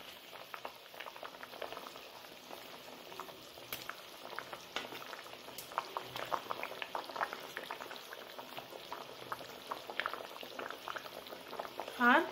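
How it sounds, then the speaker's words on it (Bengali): Bengali mustard sauce for a katla fish curry bubbles steadily in a pan, a soft continuous simmer of small pops close by, with a brief louder clatter at the end. "তো আমাদের ঝোল ফোটা আরম্ভ হয়ে গেছে"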